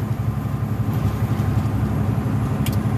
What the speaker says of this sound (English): But that's the sound of the man driving on a truck.